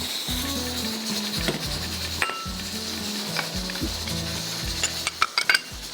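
Semolina roasting in a hot pan for a qeema masoor dish gives a steady close sizzle and frying hiss, with scraping and a few metal clinks toward the end over low background tones.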